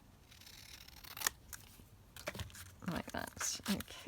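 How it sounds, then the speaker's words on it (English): Scissors snipping pieces out of decorative paper, close and crisp cuts in a few short bursts, with someone speaking briefly between the snips. "So we'll just snip those out"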